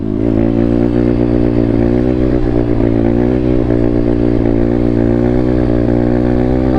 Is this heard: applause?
no